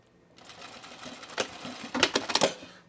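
A serger stitches a seam on a Hyde zip hoodie: a whirring run that starts softly, then sharpens into quick, clattering bursts near the microphone before stopping.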